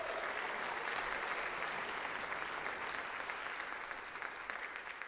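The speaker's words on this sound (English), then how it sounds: "So a round of applause for them, please." An audience at a MixCon mixing talk applauds in a dense, steady wash of clapping that holds at an even level for several seconds with no voices.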